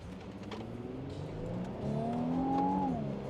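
A 2025 Infiniti QX80 with a turbocharged V6 accelerates at full throttle on a track, the engine note climbing steadily in pitch and growing louder over a few seconds before easing slightly.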